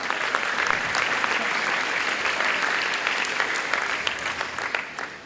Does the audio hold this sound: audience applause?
yes